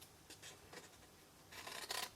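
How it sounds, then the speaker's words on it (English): Scissors snipping through vellum paper in a papercraft favour box project, a few short crisp cuts in quick succession, close and quiet with no voices. "Cut into the squares and notch a little bit."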